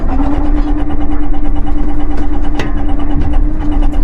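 A small marine generator aboard a 1994 Carver 350 aft cabin motor yacht runs steadily with a constant mid-pitched engine drone and hum, loud and close, with no pauses and no talking.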